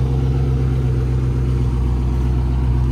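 A car from a Dubai collection idles outdoors with a steady, loud, low rumble that holds even throughout, with no voices.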